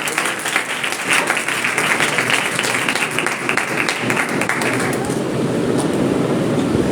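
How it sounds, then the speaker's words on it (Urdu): Church congregation at a worship service breaking into loud applause: dense, sustained clapping from many hands that swells and holds, then thins into a rumbling crowd noise near the end. "یہ زوردار تالیاں دیں"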